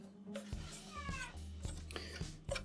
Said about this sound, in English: the cat in the background is saying, "Where's my food?"